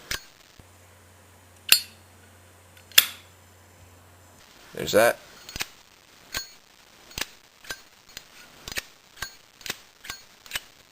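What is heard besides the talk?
Zippo lighters' lids clinking open, including a 1937 replica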